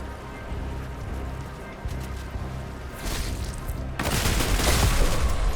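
Gunfire in a shooting video game: dense, rattling bursts of rapid shots that grow louder and heavier toward the end, filling the mix as a steady wash of noise without any talking.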